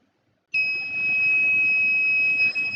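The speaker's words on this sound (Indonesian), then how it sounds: "Setelah sensor PIR mendeteksi adanya pergerakan, maka buzzer akan berbunyi" After a brief silence, a steady high-pitched electronic buzzer triggered by a PIR motion sensor switches on and sounds continuously and loudly until the end.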